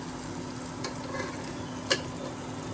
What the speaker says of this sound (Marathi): तेच सध्या टाकून आपण फोडणी देऊया